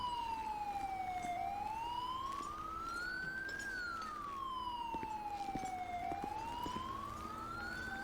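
A GTA 5 ambulance siren with a slow wail sweeping down, up and down again in long cycles, continuous and prominent, with faint clicks and vehicle rumble beneath.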